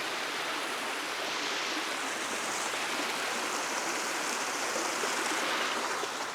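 Water rushes steadily through a shallow gully stream near the ruins as someone wades across, a continuous broadband splashing and flowing wash with no talk.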